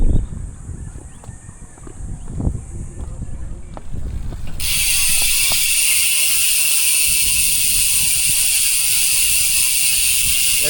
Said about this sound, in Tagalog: yung tunog ng Tanke TH240 MTB hub kapag naka free wheel